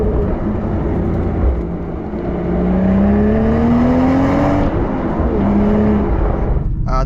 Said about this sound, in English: This engine does sound beautiful.